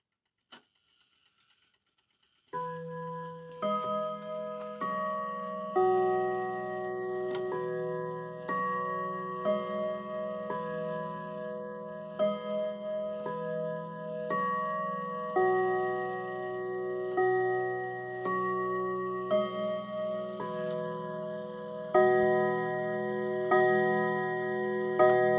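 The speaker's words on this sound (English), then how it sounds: "It's ticking away beautifully." A 1940s German mantel clock ticks steadily and evenly up close, alongside sustained ringing chime tones, with no talking.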